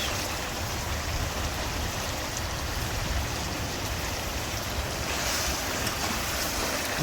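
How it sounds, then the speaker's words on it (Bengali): Strong wind blows steadily and loudly outdoors beside an open-air cooking spot, a continuous broadband roar buffeting the microphone throughout with no pauses. "প্রচণ্ড বাতাস।"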